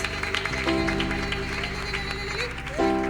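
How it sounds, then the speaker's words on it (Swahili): A church congregation claps at a prayer meeting, with a steady patter of many hands under sustained organ-like music, fairly loud and continuous. "Hayo makofi umempigia bibi yako"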